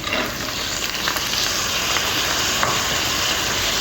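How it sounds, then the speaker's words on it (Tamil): Green chillies sautéing in a pan for snake gourd poriyal give a steady, close, dense sizzle that holds evenly throughout, with faint stirring clicks and no voices. "பச்சை மிளகா போடுவோம் ஒரு நல்லா வதப்போம் நல்லா வதங்கட்டும்"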